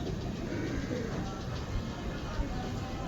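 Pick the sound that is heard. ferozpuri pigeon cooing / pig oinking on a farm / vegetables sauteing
ferozpuri pigeon cooing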